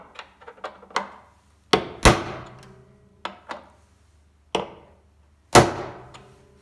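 Clutch alignment tool being whacked into place on a pro-touring 1973 Camaro, a series of sharp metallic knocks, a few light taps then several harder strikes with ringing decay, close and alone.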